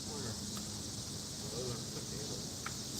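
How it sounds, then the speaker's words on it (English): Steady, dense insect buzz of cicadas at an outdoor fishing spot for catfish and carp, a continuous high drone filling the whole stretch with faint background noise. "Sounds like cicadas."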